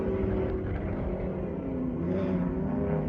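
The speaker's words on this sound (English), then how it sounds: "Got the big V8 under the bonnet and she's putting the horsepower to the ground." A big V8 race car engine drones as it puts the power down on track, a dense, loud and steady roar held throughout.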